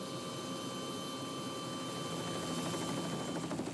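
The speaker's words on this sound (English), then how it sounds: "The camp helicopter arrives to pick them up" A camp helicopter arrives at a summer field camp on Southampton Island, its engine a steady, fairly distant droning whine with a faint rhythmic rotor pulse, no voices.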